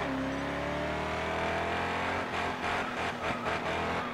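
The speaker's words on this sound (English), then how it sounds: "If you keep hearing the motor just constantly changing its idle and everything, that's me pushing the trigger to control it" Small trigger-throttled motor in a demolition derby grid series, its idle constantly rising and falling as the throttle is worked, a steady buzzing drone with shifting pitch and later a few revving surges, close and without talk.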